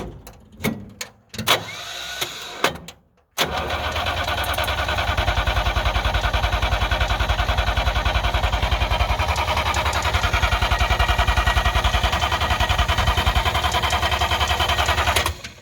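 A 1958 DKW pickup truck that has not run in a while cranks with a few short bursts, then its engine catches and runs steadily at a loud, even idle for the rest of the clip.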